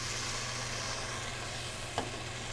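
A soft steady sizzle of garlic, diced tomatoes and stock simmering as they are stirred in a pot, with a brief clink of the utensil near the end, heard alone and fairly quiet.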